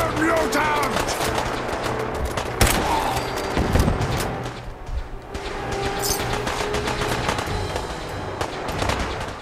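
Rapid volleys of laser gunfire crackle through a Fallout 4 firefight between the Brotherhood of Steel and raiders, dense overlapping bursts continuing steadily with occasional louder impacts.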